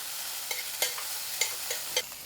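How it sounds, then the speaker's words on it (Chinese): Mushrooms fry in a pan, cooking until they release their water: a steady soft sizzle broken by several sharp scrapes and clacks of stirring, close and without talk. "然后蘑菇我们就继续给它煎到出水。"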